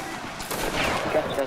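Reenactment soldiers in a Waterloo battle line fire a ragged musket volley, several overlapping gunshots across a second and a half, loud and close, with shouting mixed in.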